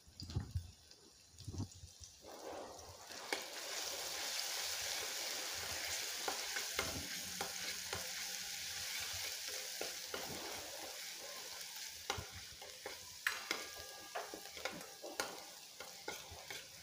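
Ground masala paste of garlic, green chilli and cumin drops into two spoons of hot oil for tempering a Maharashtrian chakvat (bathua) leaf bhaji. A few clatters give way to a loud, steady sizzle with stirring scrapes; no one speaks.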